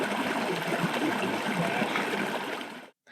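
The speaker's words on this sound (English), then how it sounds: "if you listen to two of the three waterfall settings" Waterfall setting of a Sound+Sleep Aquarius white noise machine plays a steady, soft rushing water hiss that fades out near the end, followed by a brief silence and a restart.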